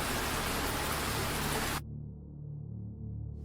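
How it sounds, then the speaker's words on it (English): Rain pours onto a New Orleans street as a loud, steady hiss that cuts off abruptly partway through, leaving a quieter low background. "Seems like we have rain on one side, but we don't have rain on the other side."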